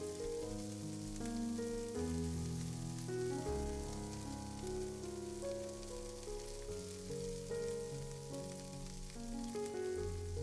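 A steady, soft sizzle of okra pan-frying in oil plays throughout, with background music carrying over the top.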